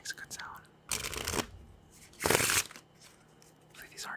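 Two quick riffle bursts of playing cards being bridge shuffled, crisp and close, with soft whispering in the quiet gaps.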